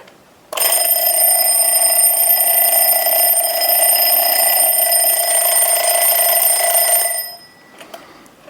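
An old-fashioned alarm clock bought at IKEA rings loudly and continuously for about seven seconds, a harsh metallic buzzing bell that cuts off sharply, followed by a couple of faint clicks.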